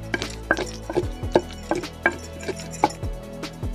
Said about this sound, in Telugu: గోంగూరని రోట్లో వేసుకున్నాక పచ్చిమిర్చి గోంగూర కలిసేలా నూరుకున్నాం ఫ్రెండ్స్